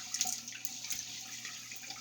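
Water runs and splashes softly at a sink while a face is dampened before a shave, a faint trickle with small irregular splashes over a brief moment.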